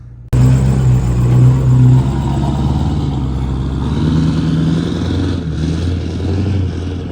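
A freshly rebuilt 6.4L diesel engine is being broken in on a drive, producing a loud, steady low rumble with sustained engine drone and mild rises in pitch, close and continuous throughout.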